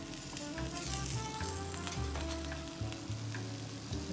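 Sheepshead fish pieces frying in hot oil, a steady dense sizzle and bubbling that stays loud and close throughout, with no voices.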